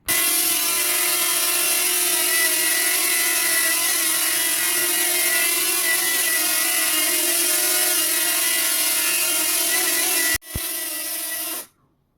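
A repaired DJI Flip drone with a fixed gimbal runs its propellers in a loud, steady, high whir. The whir cuts out with a sharp click, returns briefly, and then stops.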